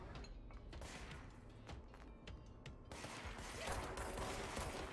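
Gunfire in the video game Control, played on Google Stadia: a dense run of rapid shots and thuds that swells louder in the second half, with no talking.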